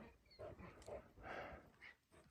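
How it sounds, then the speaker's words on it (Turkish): Dogs on a farm scuffling and wrestling with each other: short, close snarls, growls and yelps in quick uneven bursts, fairly quiet, with no speech. "Bak Paşa ile Paşa boğuşuyor"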